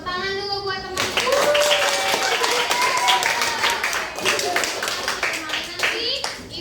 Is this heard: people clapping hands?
yes